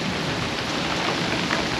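Rain pours during a storm at sea onto a sailing catamaran, a Leopard 45, making a dense, steady, close hiss with no pauses.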